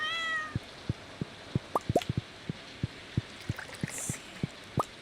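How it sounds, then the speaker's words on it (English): A house cat gives a short meow near the start, while soft regular plopping taps and drips continue through the quiet room; no talk is heard. "Oh, it's the kitty."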